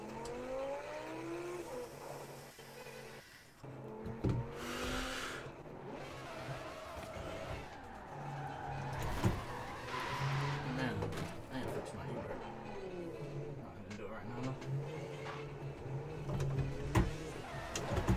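A 2013 Audi RS Coupe V10 drives in the Forza Horizon 4 video game, its engine note rising and falling with revs and shifts, fairly quiet and partly masked by people chatting throughout.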